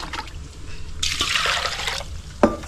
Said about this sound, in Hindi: और इसमें पानी डालूँगी।